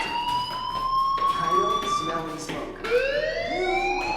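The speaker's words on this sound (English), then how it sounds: "do you hear that fire alarm? That means you should be outside." A fire alarm rings inside the video game Life is Strange, a loud continuous electronic wail with pitch that sweeps and restarts, filling the whole stretch with faint other game sounds beneath.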